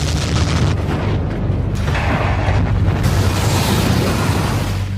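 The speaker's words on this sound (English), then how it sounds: "A 15-kiloton nuclear bomb hits a major U.S. city." A 15-kiloton nuclear bomb detonating over a major U.S. city: a loud sustained rumbling boom with a deep roar that fills the whole stretch, no talk.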